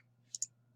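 Two quick, crisp computer mouse clicks in close succession while drawing construction lines in AutoCAD, near and alone over a faint low hum.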